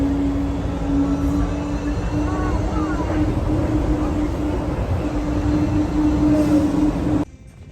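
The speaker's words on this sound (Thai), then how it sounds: "รถไฟ" A train rolls past close by in a steady, loud rumble with a sustained low hum, lasting several seconds before cutting off abruptly near the end.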